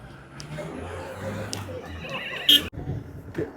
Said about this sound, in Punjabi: ਆ ਘੋੜੇ ਆ ਭਾਈ ਦੇਖ ਲਓ